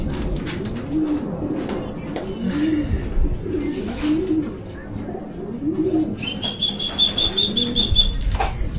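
A racing pigeon arrives at the loft after a long derby race, giving repeated soft throaty coos in a steady rhythm, with a brief flutter and a thin high chirp late on.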